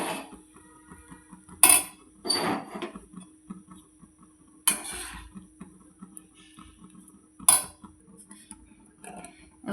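Rice is mixed with whole garam masala and rose water in a pot, giving a few sharp metallic clinks and scrapes of a spoon against the pot, spaced seconds apart, with quiet stirring in between.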